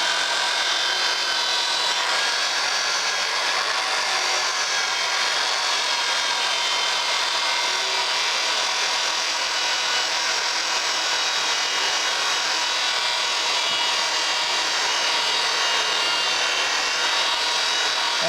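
A polishing wheel works a piece of titanium, giving a steady, even whirring hiss that runs without a break and stays close and loud, with no voices.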